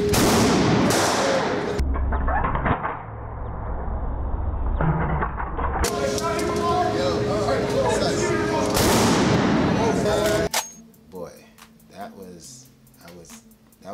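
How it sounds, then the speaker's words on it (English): Blasts from a Benelli shotgun at a shooting outing ring out loud and close, separated by gaps filled with chatter and outdoor noise, with people talking near the end. "All right, so the next gun we shot was a shotgun."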